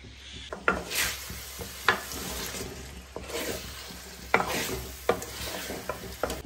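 Green chillies go into a pulao sizzling in a pot, a steady fry hiss punctuated by several sharp scrapes and knocks of a spoon stirring against the metal.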